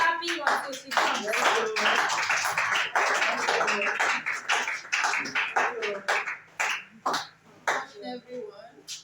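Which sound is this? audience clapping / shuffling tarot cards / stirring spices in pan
audience clapping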